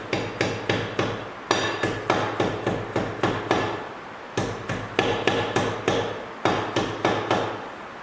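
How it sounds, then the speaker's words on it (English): Steady series of sharp, fairly close rubber mallet taps on brake caliper pins of a 2017 Camaro in quick groups, each strike ringing briefly, with short pauses between bursts; no talking. "And then with a hammer, rubber faced in my case so I don't mess up my calipers."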